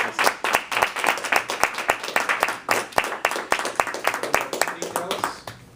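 A small club audience claps to welcome a speaker to the lectern, the individual hand claps distinct and uneven, rising and falling in a lively burst that runs the whole time.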